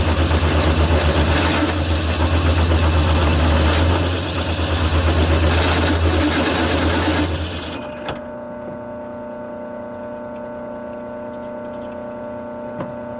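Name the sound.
power drill boring holes for foundation anchors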